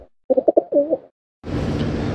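Pigeons give a short run of soft, throaty coos, a few rapid notes followed by a rolling coo, then a brief burst of broader rustling noise.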